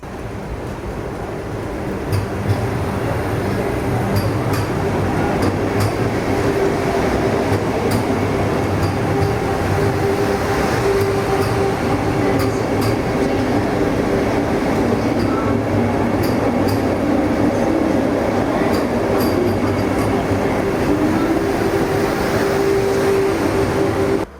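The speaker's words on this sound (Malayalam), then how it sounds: "ഓറഞ്ച് വന്ദേ ഭാരത് കേട്ടോ." Orange-and-black Vande Bharat express train rumbling steadily at close range, a continuous loud rolling roar with rail clatter and occasional faint squeal, no voices.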